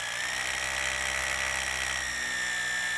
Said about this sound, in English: Drill holes with a hammer drill.